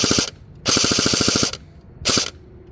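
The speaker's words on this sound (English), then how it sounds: "Dry firing." A&K M60 airsoft machine gun on an 11.1 volt battery dry firing with no box attached, three loud rapid bursts, the longest nearly a second of fast mechanical cycling, separated by short pauses.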